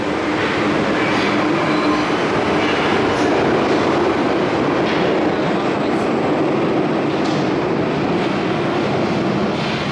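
A metro train rumbles steadily along the tracks through a nearly empty carriage, a loud continuous roar with faint rhythmic clatter and no talking.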